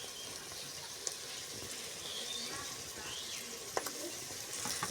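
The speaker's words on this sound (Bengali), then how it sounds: "এই যে আদা রসুন দেওয়া হচ্ছে," Ginger garlic paste fries in a pan for meat biryani, a faint, even sizzle and hiss heard throughout with a couple of light clicks from a utensil.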